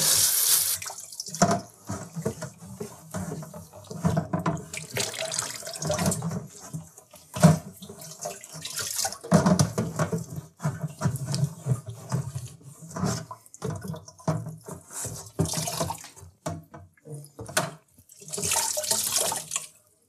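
Tap water runs into a bucket to dissolve Diversol sanitizer for homebrew equipment, a close splashing gush that surges and eases in uneven bursts with brief drips between.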